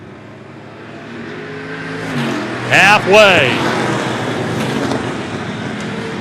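Short track race cars roar into a turn, engines revving and rising in pitch as a pack passes close, loud under an announcer's running commentary.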